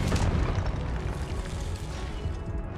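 A Confringo spell blast in the Hogwarts Legacy video game, a loud deep boom that rolls on with dense rumbling debris for a few seconds, no voices over it.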